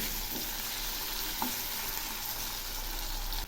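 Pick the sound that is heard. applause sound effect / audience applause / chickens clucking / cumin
cumin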